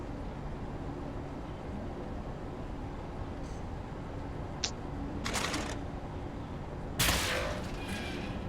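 Gunfire in the shooter game Wolfenstein: The New Order, with two loud bursts of shots a couple of seconds apart over a steady low game ambience, plus a brief thin ping before them.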